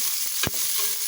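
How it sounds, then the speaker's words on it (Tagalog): Onions hitting hot oil in a pan while cooking sinigang, a short broadband sizzle with one brief louder burst of frying. "Pangkotsa at ilagay yung ating sibuyas."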